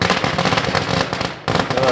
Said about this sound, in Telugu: యో ఏంటి ఊరికే టపాకాయలు కావాలి